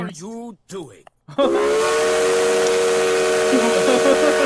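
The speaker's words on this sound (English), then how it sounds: "A 3-chime steam whistle." After a few brief spoken words, a loud, sustained steam whistle blows a rich multi-tone chord with hissing steam, continuing steadily to the end.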